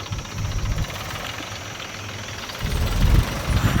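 A tractor engine runs steadily while filling a pit with soil. The low rumble is rough and continuous and grows heavier and louder toward the end, as if under load.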